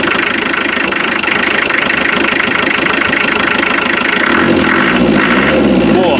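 An old 2.5-litre naturally aspirated diesel engine runs loud and close, a steady lumpy knocking idle that swells into a brief rev near the end.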